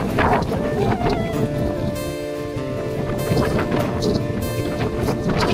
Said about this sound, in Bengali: এত পরিমাণে হাওয়া দিচ্ছে, হাঁটাও যাচ্ছে না